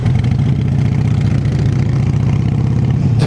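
A motorcycle engine, one of two bikes being compared, a 48 and an 883, runs loud and close with a deep, steady low rumble and no voices.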